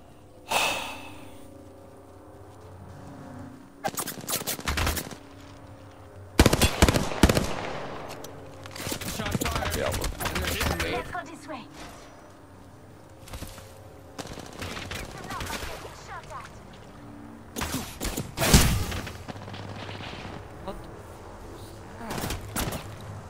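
Gunfire in Apex Legends, sharp bursts of automatic shots in several separate volleys, loud and close, with breathing and a quiet voice between them.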